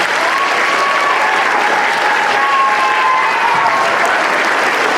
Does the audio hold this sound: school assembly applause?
yes